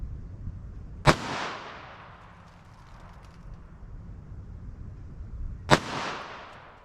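.380 ACP pistol firing non-expanding test bullets, two sharp, loud shots several seconds apart, each with a short ringing decay over a quiet outdoor background.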